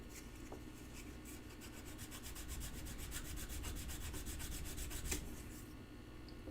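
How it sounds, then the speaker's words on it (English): Steady abrasive sanding rubbing down small bits of solder, a continuous scratchy rasp with rapid repeated strokes, close and fairly loud, with no talking. "it just takes sanding to get it down"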